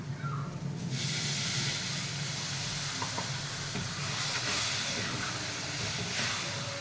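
Water poured into a hot pan of spiced masala while cooking suran (elephant foot yam) curry, giving a loud, steady hiss and sizzle that fills the whole stretch with no talk.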